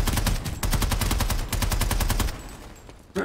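Rapid automatic gunfire in the video game Planetside Arena, loud and close, in sustained bursts that stop near the end before a final short shot.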